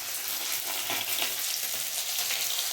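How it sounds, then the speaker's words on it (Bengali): Fish fries in a pan, giving a close, continuous crackling sizzle that stays steady throughout, with small pops and no voices. "আর এখানে মাছ ভাজা হচ্ছে"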